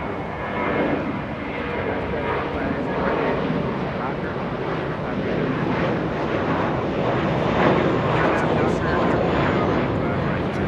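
At LAX, a JetBlue jet airliner bound for Boston departs with a loud, sustained engine roar that swells slightly midway, while a voice talks over it.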